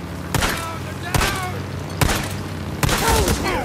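Four heavy gunshot blasts from the video game Days Gone, spaced roughly evenly, each a sharp broadband crack with a booming tail, with voices talking between and over them.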